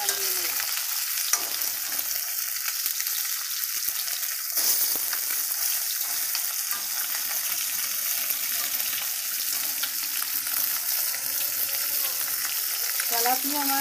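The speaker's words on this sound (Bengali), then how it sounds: "তেলাপিয়া মাছ একটু লাল লাল করে না ভাজলে, সময় ধরে না ভাজলে ভালো লাগে না, কড়া করে ভাজতে হবে" Tilapia fish frying hard in hot oil until reddish and crisp, a steady close sizzle and crackle with occasional stirring, no talking.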